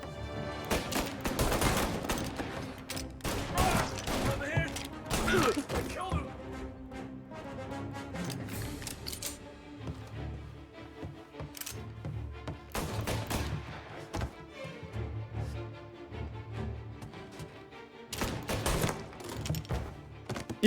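Gunshots in Mafia: Definitive Edition, a string of loud close shots in clusters with gaps between, fired while a player speaks Polish in the background.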